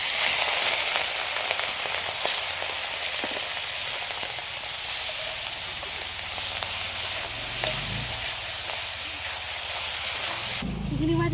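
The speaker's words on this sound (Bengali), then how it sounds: "এবার ম্যারিনেশন করা চিংড়ি মাছগুলো ভেজে নেবো।" Marinated shrimp sizzle steadily in hot oil in a Bengali home kitchen, a dense, continuous frying hiss with crackles throughout and a brief stir or clatter near the end.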